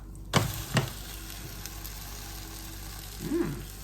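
A crepe cooks in a hot pan with a soft, steady sizzle throughout. A couple of brief scraping clicks come near the start, and a low rustle of a spatula follows near the end.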